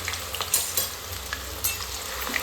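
Potatoes frying in hot oil with a steady close sizzle, broken by brief scraping stirs of a spoon in the pan, fairly loud and with no talking.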